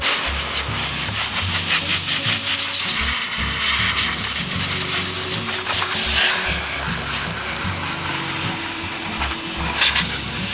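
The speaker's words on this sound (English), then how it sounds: "we're going to take our compressor and we're going to blow that all out of there" A chainsaw being serviced, with an air compressor steadily blowing debris out of it: a continuous loud hiss of rushing air, rising and falling slightly over a low motor hum.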